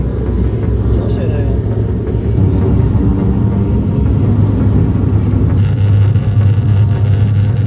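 Close propeller airplane engine droning with a steady low rumble and throbbing hum, loud and continuous, with people talking over it.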